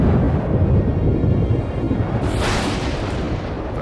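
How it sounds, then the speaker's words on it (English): A deep rumble of thunder rolls in from an approaching storm in a cartoon, a loud low boom that swells at the start and then fades into a long, rough tail. "let's get back before that storm hits"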